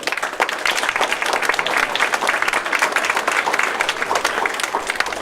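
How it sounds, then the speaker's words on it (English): Students at a school assembly give guests a steady round of applause, dense and sustained, filling the room throughout. "let's give our friends with us here today a hand right now"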